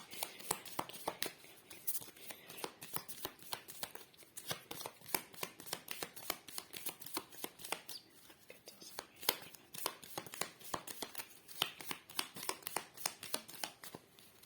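Deck of cards being shuffled close up, a dense run of crisp riffling clicks and flutters continuing steadily throughout, fairly quiet.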